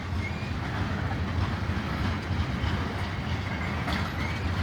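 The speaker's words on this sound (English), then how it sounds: "Boy, this is a big tanker load." A long BNSF freight train of tank cars rolls steadily past in Piscataway, a continuous loud rumble and rattle of wheels with faint clacking and no break in the noise.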